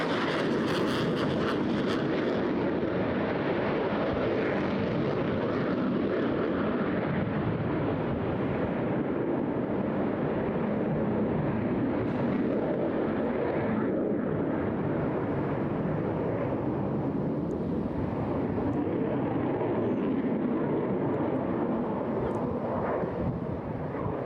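A Eurofighter Typhoon fighter jet with reheated turbofans at a seaside airshow, a loud sustained roar of broadband engine noise with wind buffeting the microphone, slowly shifting as the jet passes and carrying on without a break.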